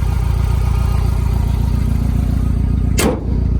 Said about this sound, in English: Listen to the engine as it turns over.